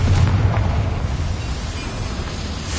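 A Confringo fire spell blasts in Hogwarts Legacy gameplay, a deep booming explosion opening with a heavy low thump that rumbles and fades into a rolling crackle.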